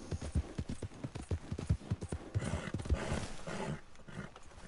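Horse hooves clip-clop in Red Dead Redemption 2, a quick, regular run of close, distinct strikes that blurs into a louder, busier rumble before fading out near the end.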